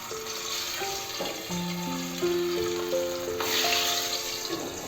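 Boal fish fry in oil in a pan over a low flame, a steady close sizzle with clinks from the utensils and a brief surge of spitting near the end, with no voices.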